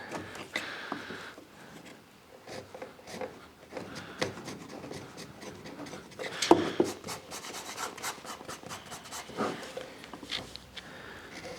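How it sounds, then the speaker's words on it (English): Quiet, irregular scraping and rasping of a chisel paring a wooden dovetail box joint flush, in short strokes with small knocks between, close up and without talk. "So now I'm just going to take the chisel to this, just pare it off and match it up"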